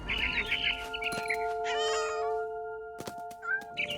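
A cat meows repeatedly in the video game What Remains of Edith Finch, close and clear, with several drawn-out tonal calls over a steady musical drone.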